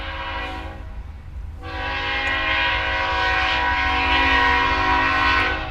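A train passes on a railroad track near a house, its horn sounding loud and sustained for several seconds alongside the low rumble of the rolling cars, with no voices.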